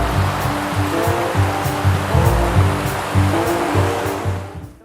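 Waterfall at Guejar, a steady broadband roar of falling water that fills the whole clip at close range, with no voices, fading out in the last moment.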